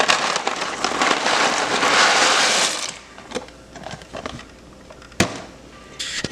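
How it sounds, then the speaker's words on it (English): Pot of water at a rolling boil as kamut or spelt pasta goes in, a dense crackling hiss for a few seconds that drops to quieter bubbling with scattered clinks. "So my water is boiling and I'm just gonna add it in."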